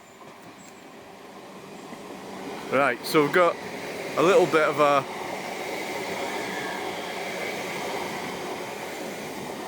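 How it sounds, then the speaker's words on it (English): A train rumbles past slowly at a distance at Millhall, Stirling, Scotland, with a steady, swelling rail noise, while someone speaks briefly over it. "There's a train."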